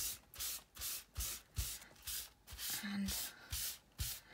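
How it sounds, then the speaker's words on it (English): Soft pastel smoothed and rubbed across a Bible journaling page, a steady run of close, soft rhythmic rubbing strokes roughly every half second, with a brief faint voice partway through. "I'll keep just smoothing it out until I am happy"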